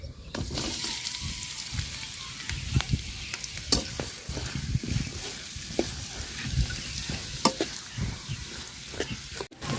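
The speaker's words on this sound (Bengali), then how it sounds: "পেঁয়াজটা দেখেন লাল লাল করে ভাজা নিচ্ছি।" Onions fry in oil with cardamom, cinnamon and bay leaf in a village-style kitchen, a soft steady sizzle broken by close scraping and stirring strokes.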